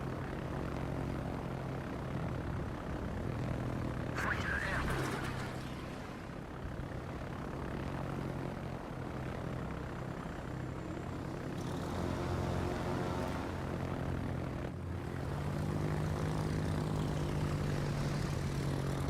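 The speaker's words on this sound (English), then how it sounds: "Let's drop a plane right above its head." Aircraft engine drone from a naval video game, a plane flying overhead with a continuous, fairly loud propeller hum that shifts pitch slightly as it passes, with no talk over it.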